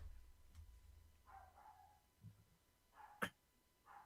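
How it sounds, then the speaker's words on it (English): Dogs bark in the distance, a few short, faint barks scattered across a quiet background with no one speaking. "I'm hearing these dogs in the background"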